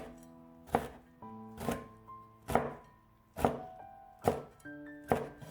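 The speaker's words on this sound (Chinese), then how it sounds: "接下来准备几个小米椒，去掉根蒂，再切成圈。" A knife chops bird's eye chilies into rings on a cutting board, six sharp, evenly spaced thunks close up with a steady rhythm, no talking.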